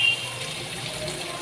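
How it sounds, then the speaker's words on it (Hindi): Leftover water from boiling white chickpeas is poured into a pot of chickpeas frying in spices, giving a steady gushing, splashing pour that stays fairly quiet throughout. "जो बचा हुआ पानी था वो इसमें डाल देंगे"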